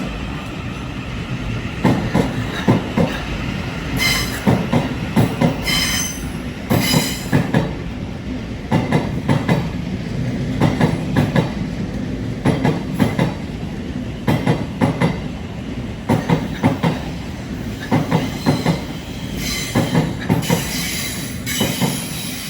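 A Thameslink class 700 train leaves a London terminus, its rolling rumble punctuated by a regular series of sharp clicks and brief squeals from the wheels over the rail joints, loud and continuous.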